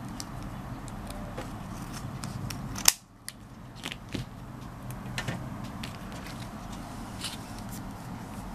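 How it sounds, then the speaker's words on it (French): Scissors snip double-sided tape while making handmade bookmarks, one sharp close cut standing out among small clicks and rustles over a steady low room hum. "Si le double face il dépasse, il faut le couper."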